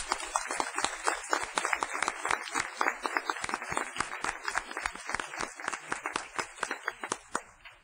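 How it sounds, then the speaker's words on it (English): Applause from attendees at a state board of education meeting, a modest crowd clapping with clearly separate hand claps, fairly quiet overall and thinning out toward the end. "Let's give these 6 schools a round of applause."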